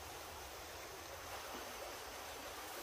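Creek water flows steadily beside a stealth campsite near a covered bridge, a continuous soft broadband rush with no talk, faint and even throughout.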